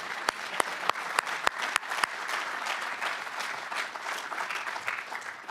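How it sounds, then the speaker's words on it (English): Audience applause at an Army athletics welcome ceremony, opening with several sharp individual claps before a full room joins in with sustained, even clapping. "We're going to clap again for that one."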